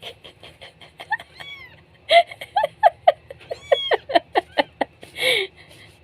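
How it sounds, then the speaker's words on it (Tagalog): A small kitten meows repeatedly after waking from a swaying cradle, a string of short, high, close cries growing louder and quicker toward the end, with a soft voice in the background. "Ang kuting-kuting na ito. Yan na. Nagising na, na-stop ang duyan."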